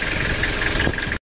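A Toyota Kijang diesel engine idles after an engine rebuild. It gives a loud, close, steady rumble with a rough knocking texture, then cuts out abruptly for a moment near the end.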